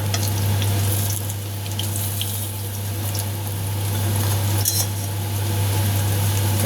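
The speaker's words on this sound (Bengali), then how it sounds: "এরকম করে উল্টে পাল্টে এটাকে কিন্তু ভাজতে হবে" Kochu bora, taro fritters, sizzle loudly in hot oil in a karai. The frying is a dense, continuous crackle that stays steady and close, with a low hum underneath and no speech.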